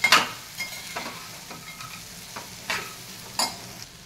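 Okra being stirred with curry leaves and spices in a frying pan: soft scraping strokes at irregular intervals over a steady low sizzle, close and fairly quiet with no voices.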